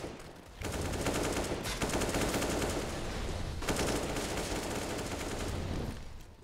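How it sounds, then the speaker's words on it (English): Rapid automatic gunfire bursts from a Counter-Strike match on the Train map, dense rattling volleys in two long stretches with a short gap between, faint and without commentary over it. "Much gunfire."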